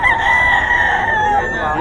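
A rooster on a Filipino chicken farm crows once, a loud, close, drawn-out call that rises and then trails off, with faint farm background behind it.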